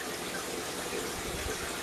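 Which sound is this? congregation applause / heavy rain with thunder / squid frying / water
water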